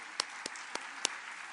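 An audience applauds a speaker during a public health lecture, producing a brief, even hiss of distant clapping crossed by a few sharper claps close by.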